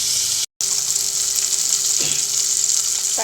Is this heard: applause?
no